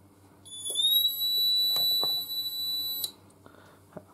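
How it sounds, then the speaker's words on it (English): A fire alarm control panel's buzzer sounds a loud, steady electronic tone for about two and a half seconds, with a few faint clicks and knocks around it. "The buzzer's kind of annoying with this panel"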